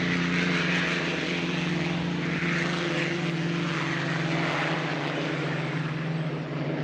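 A turbine-engine hydroplane race boat runs at the Apollo Columbia Cup, a loud sustained whining roar with a steady droning tone, continuous for the whole stretch and unaccompanied by speech.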